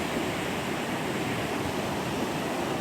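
Steady, dense rush of high creek water pouring over a small drop of 2 to 3 feet, a constant broadband roar with no breaks or voices.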